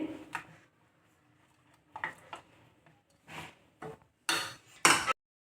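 A spoon stirs a mustard oil and water mixture in a bowl while preparing hilsa fish, giving a few scattered soft clinks and scrapes with pauses between them, then louder, harsher scraping strokes near the end.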